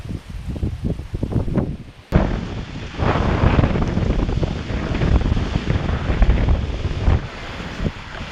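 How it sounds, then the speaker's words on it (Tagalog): Strong typhoon wind roars and buffets the microphone continuously on a rural farm, with loud low rumbling gusts and a brief drop near the start before it surges back. "Mas lalong lumakas yung hangin mga kabukid po."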